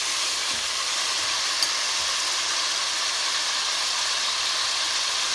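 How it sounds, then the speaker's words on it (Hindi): Spices for Karachi-style beef nihari sizzle and fry in a pot, giving a steady, close hiss that runs unbroken throughout with no talk. "ये सारे मसाले हम इसमें डाल देते हैं और फिर हम इसको अच्छी तरह से भून लेते हैं सारे मसालों को।"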